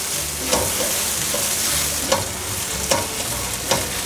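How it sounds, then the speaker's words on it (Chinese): Baby corn and king oyster mushrooms stir-fried in a wok, a steady loud sizzle with periodic scraping strokes of the spatula roughly every second, no voices. "继续翻炒。"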